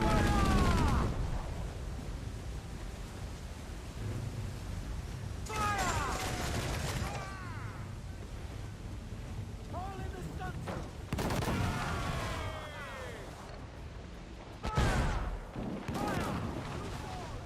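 Ship cannons in the Assassin's Creed 4 Black Flag video game fire in several heavy booming volleys with rumbling tails, mixed with game music and sharp mechanical effects.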